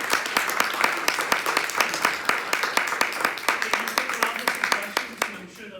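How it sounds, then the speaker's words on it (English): Audience applause at a talk about living in China, a steady patter of many hands clapping close and fairly loud for several seconds before trailing off at the end. "Can we give him a round of applause?"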